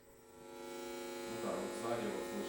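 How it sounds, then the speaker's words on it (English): A low electrical hum with faint tonal overtones drones steadily at close range from the back of a refrigerator, swelling slightly louder partway through, with no talking. "the refrigerator, generally speaking, this home appliance more or less silent, except of the backside."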